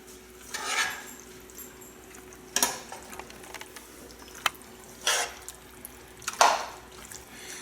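A spoon mixing shell pasta with ground meat and parsley in a metal pot, scattered scrapes and clinks about a second or two apart, with soft wet stirring in between and no talk.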